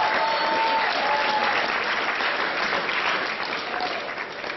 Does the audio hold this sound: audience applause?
yes